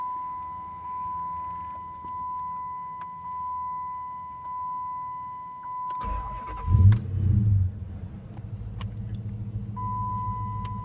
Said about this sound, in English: let's go fire it up real quick before we take it for a spin